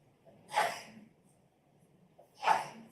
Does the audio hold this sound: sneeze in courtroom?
yes